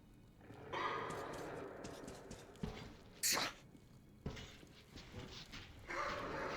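In the video game Metro Last Light Redux, a dog gives short barks and whimpers amid scuffling game sounds, in several bursts of moderate loudness with a few seconds between them.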